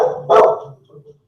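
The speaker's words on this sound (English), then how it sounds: "Oh, there goes the dog." A single sharp dog bark rings out indoors, close and loud, with a faint low murmur before and after it.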